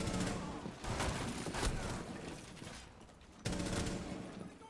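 Gunfire in Rainbow Six Siege as a door is pre-fired: loud, dense bursts of rapid shots that run together, a brief lull, then another sudden sustained volley.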